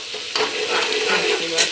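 A brief burst of stirring as jackfruit for kathal do pyaza is turned in a pan, with a soft sizzle and scraping of the spoon, up close.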